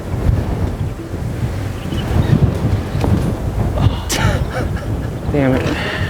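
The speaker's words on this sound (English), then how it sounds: "It's too windy." Strong wind gusts buffet the microphone on public land in Kansas during a decoy hunt, a loud rumbling roar that persists throughout as people talk over it.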